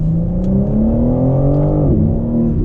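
A 2022 BMW M4 Competition xDrive revs up through corners, its engine note climbing steadily, dipping briefly at a shift or lift, then pulling again; loud and close, with no voices.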